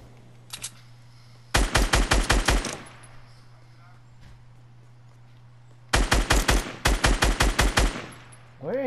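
Rapid automatic gunfire from the video game Fortnite Battle Royale comes in two sharp bursts of about a dozen evenly spaced shots each, with a few isolated shots before them and quiet game ambience between.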